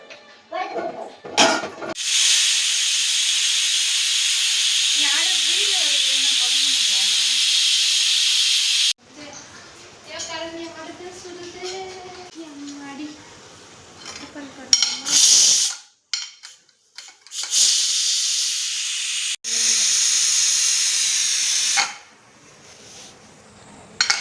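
Sesame oil sizzles loudly in a hot pan in long hissing bursts, close by, broken by pauses where people talk and a few metallic clangs of cookware.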